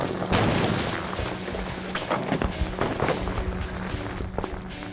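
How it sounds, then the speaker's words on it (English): A booming blast as thermite meets ice, a sharp loud explosion followed by a rolling, rumbling roar and scattered crackles that fade over several seconds outdoors, with no talk. "I'd say that was an explosion."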